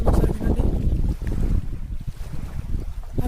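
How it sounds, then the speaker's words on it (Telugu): Water waves wash against the bank of the Brahma Sagar reservoir in low, rolling surges, mixed with heavy wind buffeting close to the microphone. "చూడండి నీళ్ళు శబ్దం ఏ విధంగా వస్తుందో ఒకసారి వినండి."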